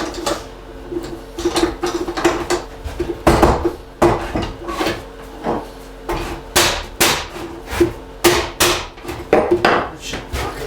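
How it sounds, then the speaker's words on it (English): Metal clamps being loosened and pulled off a glued MDF sign in a woodshop, giving a string of loud clanks, knocks and rattles with short pauses between them, close up and with no talking. "So let's get it off the clamps."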